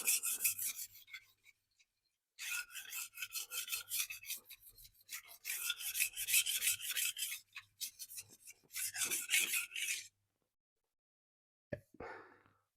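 A Nasu Bunka kitchen knife with carbon cladding is ground on a whetstone in long, repeated scraping strokes at close range, with a short pause and a few light knocks near the end.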